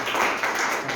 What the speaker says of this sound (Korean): 우리의 박수로 오늘 환영하시겠습니다